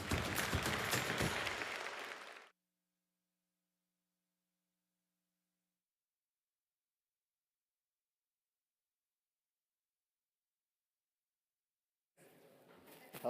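Auction audience at a live art sale applauding a record-setting painting sale, a short burst of clapping that stops abruptly, followed by long silence and a faint return of room sound.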